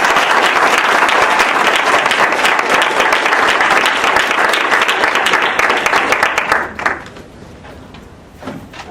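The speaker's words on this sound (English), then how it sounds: "a warm round of applause to welcome him to the stage." A debate audience applauds loudly and steadily for about seven seconds as a speaker is welcomed to the stage, then the clapping thins out and dies away into a quieter room.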